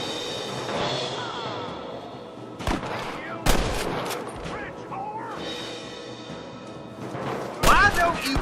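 Gunfire in Red Dead Redemption, several sharp, loud shots scattered among game music and ambience, with people talking over the action.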